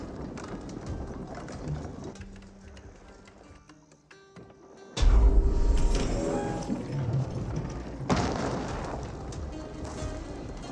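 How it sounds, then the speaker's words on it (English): A trebuchet in Age of Empires 4 launches against an outpost, with a heavy thudding impact at midpoint followed by a second crash amid battle noise and game ambience. "trebuchet now engaging the outpost"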